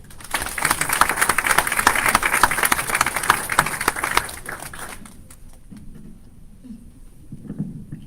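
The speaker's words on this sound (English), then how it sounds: "So can we give a round of applause for Jada?" An audience applauds at a live pitch event: dense clapping for about five seconds, then a thinner scatter of claps with faint murmuring.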